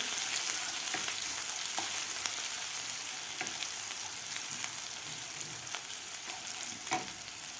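Ginger garlic paste sautés in a pan for paneer bhurji, giving a continuous close sizzle broken by faint scrapes of stirring every second or so. No one speaks.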